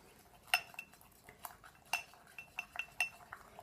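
Metal spoon or utensil clinking and scraping against a bowl while slime mixture is stirred, a series of light, close taps and chinks at an uneven pace over a quiet background.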